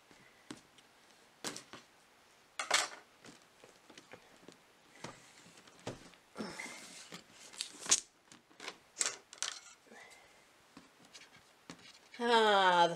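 Scissors snip and rip through packing tape on a box during an unboxing, giving scattered crisp cuts, crinkles and rustles, close and moderately loud, ending in a dense tearing burst; faint voice sounds mix in.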